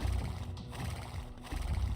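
Cavalry units in the game Age of Empires II whinny and snort amid soft hoof clatter, a short, moderately loud burst of horse sounds with no speech.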